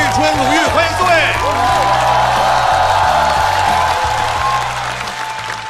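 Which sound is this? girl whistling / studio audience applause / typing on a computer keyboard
studio audience applause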